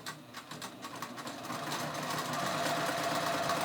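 A sewing machine stitches along the seam allowance of a prom gown in tricky fabric, a close steady mechanical hum that gradually grows louder and denser, with no talk.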